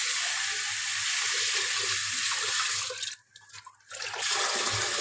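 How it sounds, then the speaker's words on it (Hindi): Water runs steadily into basmati rice being washed in a kitchen, a continuous splashing stream that briefly drops off near the end before the flow resumes. "अब ये फिर दोबारा इसके अंदर पानी डाला है।"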